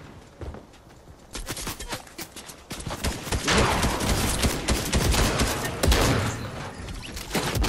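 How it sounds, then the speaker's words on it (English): Shotgun fire in a Fortnite match: sharp broadband blasts scattered through the clip, growing denser and louder in the second half amid other busy game noise and faint voices. "There's somebody with a shotgun too."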